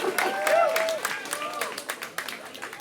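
A crowd at a team series event applauds and cheers, a dense clapping wash over a loud voice and whoops that gradually thins out.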